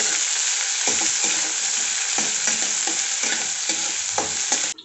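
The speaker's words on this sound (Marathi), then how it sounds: "अर्धा टीस्पून जिरे याच्यामध्ये उभा चिरलेला कांदा टोमॅटो आणि उभी चिरलेली मिरची सर्व आता आपण परतून घेऊया" Cumin, sliced onion, tomato and green chilli sautéing in a hot pan, a loud, steady sizzle broken by repeated scraping strokes from the stirring spoon, close up and with no talk.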